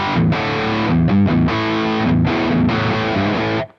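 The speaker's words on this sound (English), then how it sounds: "It's called the Rumbles, which is kind of a Marshall JCM 800 kind of Marshall in the box style pedal." An electric guitar runs through an Analog Alien Rumbles overdrive pedal, a Marshall JCM 800-style amp-in-a-box, giving a loud, crunchy classic-rock tone. A few sustained chords and riffs play continuously, then cut off sharply at the end.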